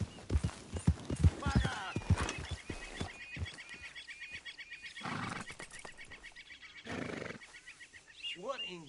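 A horse clip-clops along at a riding pace in Red Dead Redemption 2, a quick run of hoof strikes followed by a looser rhythm, with voices talking over it and a short whinny-like cry near the end.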